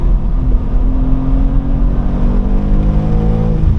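A 2023 BMW M2 G87 engine on a race track revs hard and continuously, its pitch climbing steadily up to the rev limiter, loud and close with no talking.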